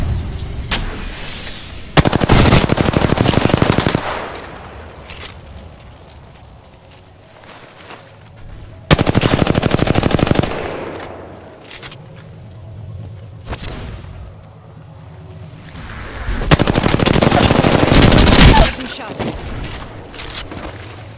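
Video game gunfire erupts in three long, loud bursts of rapid automatic shots separated by quieter stretches of footsteps and ambient game sound, with a voice talking in between.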